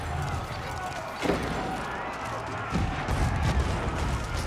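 Cannons fire on a gate during an Age of Empires battle, with a few heavy booming impacts over constant in-game battle noise while a commentator talks throughout.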